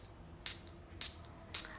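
A small perfume atomizer on a Lattafa Raghba bottle fires three short, crisp hissing sprays at even intervals, fairly close and quiet, with no talk.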